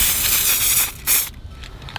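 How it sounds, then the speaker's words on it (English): Adhesive sprayed from an aerosol can during a van build, a close, broad hissing burst with a short pause and a second brief spray before it tapers off. "and then I need to spray this one"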